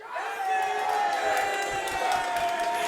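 Crowd at a League of Legends esports match between Unicorns of Love and FC Schalke 04 in the LCS EU Summer split, a sustained roar of cheering and whooping from a large audience, loud and continuous, with a voice talking over it.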